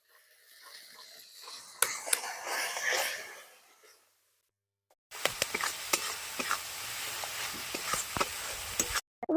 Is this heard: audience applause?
no